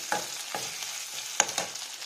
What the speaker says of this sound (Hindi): आलू डाल देंगे हम,